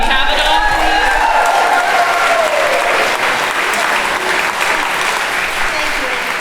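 Sustained applause from a gospel choir concert audience fills the space, steady and loud throughout, with some voices and talk mixed into the clapping.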